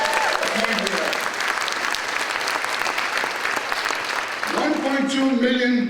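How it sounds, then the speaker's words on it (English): Applause from a crowd at a congressional ceremony, dense clapping that fills the room and then thins as a voice comes in over it near the end. "How about giving ourselves a round of applause?"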